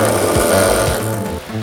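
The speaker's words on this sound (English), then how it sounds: "When the brake pedal is applied and the anti-lock brakes activate," A loud, rapid mechanical pulsing and grinding buzz, steady and close, from a GM four-wheel anti-lock brake system activating under brake pedal pressure.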